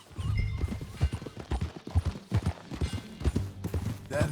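Horse hooves clop in a steady rhythm while riding in Red Dead Redemption 2 as John Marston, close and fairly loud with a low rumbling undertone.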